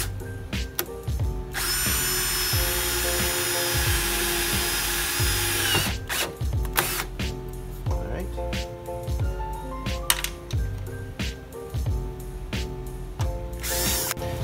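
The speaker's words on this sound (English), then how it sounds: "Just go ahead and pre-drill it." Power drill pre-drilling a hole in the fender of an S10 pickup near the core support, with repeated whirring bursts that start and stop and a long continuous run near the beginning, close and loud.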